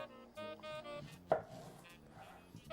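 A kitchen knife slicing a pear in half on a cutting board, one short crisp chop standing out against quiet background music.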